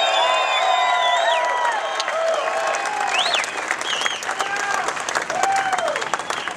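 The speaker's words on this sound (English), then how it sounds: "the same round of applause for Troy Corser" Crowd applause and cheering for a World Superbike race podium finisher at the 2008 US round, dense clapping mixed with whoops and whistles, with a public-address voice talking over it.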